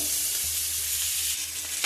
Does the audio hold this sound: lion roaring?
no